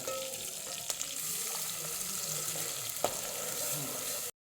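A raw paste of onion, garlic, cashew, almond and sesame roasts in hot oil in a pan, giving a steady, close sizzle that runs unbroken, with an occasional soft stir or scrape.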